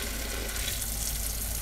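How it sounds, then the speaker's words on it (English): Hot water sprayed onto melting biodegradable packing peanuts, a continuous hissing, sizzling spray with faint bubbling, close and steady with no talk. "I can spray them and just hit them all with hot water all at once."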